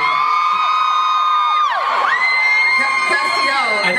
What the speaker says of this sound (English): I think they're screaming